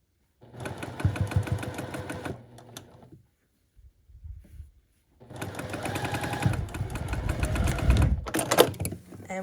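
A sewing machine stitches pieces of a pickle dish quilt block, running in a close, rapid mechanical chatter, stopping briefly for a quiet shuffle of fabric, then whirring again in a longer run.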